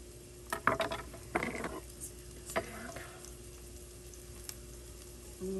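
Onions and garlic frying in a pan inside a cargo trailer camp kitchen: soft sizzling with intermittent stirring clatter and scraping in the first few seconds, then a quieter steady background hum.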